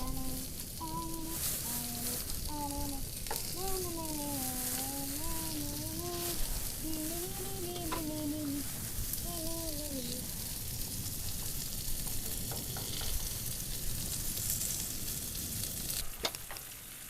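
Turkish sucuk sausage frying in a pan at a night campsite beside a caravan: a steady, close, crackling sizzle that runs throughout, with a person humming or singing a tune over it for the first half.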